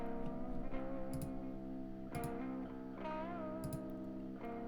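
A guitar played through two effects pedals rings out with sustained, processed tones and a few sharp picked attacks at intervals, with no voices over it.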